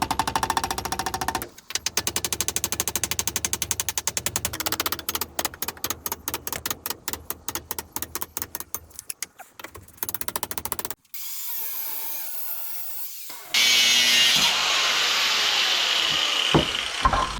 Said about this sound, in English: I am moving this axle and cutting the end down